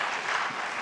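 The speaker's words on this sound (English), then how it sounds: "Can we please hold the applause?" An audience at a presidential debate applauds in a dense, steady wash of clapping that fills the whole moment without a break.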